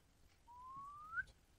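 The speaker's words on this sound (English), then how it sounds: "The whistling works." A single person's whistle, one smooth rising note held for under a second, faint and alone against a quiet room.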